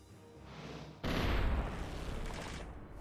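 Cannons firing in a video game, a sudden heavy booming volley that breaks in after a quiet start and leaves a broad rumbling wash that slowly fades, with no talking.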